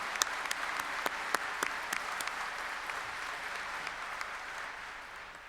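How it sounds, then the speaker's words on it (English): An audience at a Monash University graduation ceremony applauds the graduates in a large hall, a steady wash of many hands clapping with a few sharper individual claps standing out, gradually easing off toward the end. "now ask the members of the audience to applaud your accomplishments"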